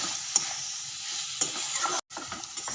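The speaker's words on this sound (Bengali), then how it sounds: "এবার এই সয়াবিন আলুটা ভালো করে কষিয়ে নেব।" Soybean chunks and potato stir-fried with ridge gourd in a pan give a quiet, steady sizzle broken by a few scraping stirs and one brief gap.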